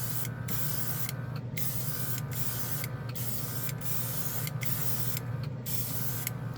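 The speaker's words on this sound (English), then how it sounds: "I put the little compressor on the seat behind me, so you probably can barely hear it" Airbrush spraying paint in short repeated bursts on the roof of a model car, with a small compressor humming steadily and faintly underneath.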